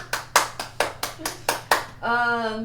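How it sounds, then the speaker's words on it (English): Hands clap seven times in a steady, evenly spaced rhythm, crisp and close, then a voice starts speaking right after the last clap. "Everybody clap your hands!"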